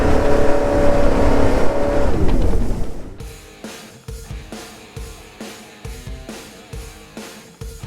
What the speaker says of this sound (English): we never expected the engine to turn over, let alone run and start